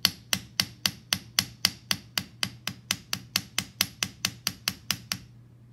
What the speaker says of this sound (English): I'm starting to hammer more on the spine this way to curve it